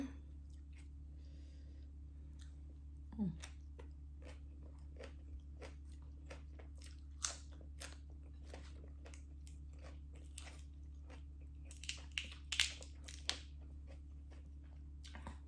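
Close, quiet chewing of som tam papaya salad, with soft crunchy bites and wet mastication repeating irregularly over a low steady background hum, growing busier near the end.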